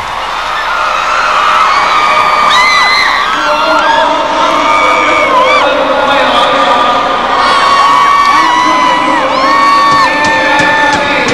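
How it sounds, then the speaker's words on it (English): Vancouver Canucks fans, a young crowd full of children, cheer at a 1994 fan appreciation day in the arena, a loud, sustained roar of whoops, shouts and high whistles that carries on throughout. "Listen to them cheer."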